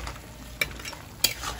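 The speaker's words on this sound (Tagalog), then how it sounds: "Pwede na natin haluin yung ating adobo." Pork adobo stirred in a pot with vinegar, soft scraping strokes over a low sizzle, with two sharp utensil clinks against the pot, close and alone.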